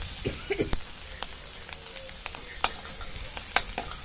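Ginger and asafoetida fry in a pan, sizzling quietly with scattered sharp crackles and a few scraping stirs over about four seconds.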